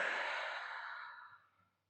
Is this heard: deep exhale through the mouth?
yes